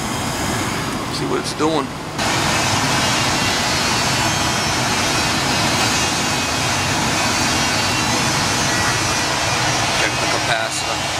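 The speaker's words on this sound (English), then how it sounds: "The motor's spinning the proper way." A gas furnace blower motor runs as a steady broadband whoosh and hum, with a brief spoken remark and some clatter near the start, then continuous airflow noise.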